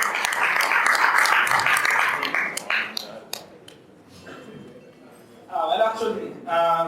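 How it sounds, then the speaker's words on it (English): Audience at a hacking conference talk applauding in a brief burst of dense clapping that fades out within about three seconds, followed by a quiet pause and then someone speaking. "Give him a round of applause."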